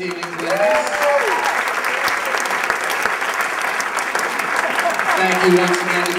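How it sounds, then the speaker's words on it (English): Sustained applause from a dinner crowd at a chamber of commerce awards evening, honoring the night's award winners; steady dense clapping fills the room for about six seconds, with a few faint voices threaded through it. "Applause for all of this evening's winners."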